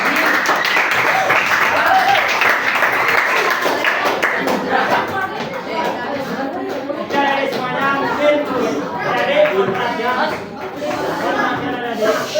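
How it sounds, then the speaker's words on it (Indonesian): A classroom of students claps hands together in a lively burst, clapping mixed with chatter and a few laughs, sustained for several seconds before trailing off. "Tepuk tangan dulu semuanya."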